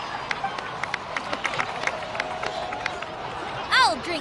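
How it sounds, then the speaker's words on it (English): In a Natlan Archon Quest video game cutscene, a crowd applauds with scattered claps and faint cheering that sit under music and voices, with a rising tonal sweep near the end. "So, please give another round of applause for them."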